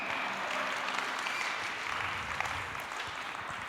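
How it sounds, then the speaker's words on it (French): A hall audience at an evening plenary applauds the Gospel Center de Lausanne gospel choir, a dense, steady wash of many hands clapping that holds at an even level throughout. "Est-ce qu'on peut applaudir le groupe du Gospel Center de Lausanne?"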